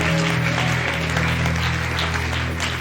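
A church congregation applauds and acclaims during an evening service, a dense, continuous wash of clapping with cheering voices mixed in, steady and loud from start to finish.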